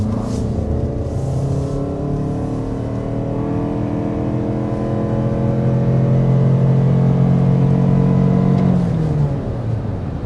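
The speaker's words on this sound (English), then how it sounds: "There's our acceleration in the Sport S Plus mode." A 2026 Lexus NX 350h hybrid crossover accelerating hard in Sport S Plus mode, its engine note rising steadily in pitch inside the cabin, loud and continuous, then easing off near the end; no talking.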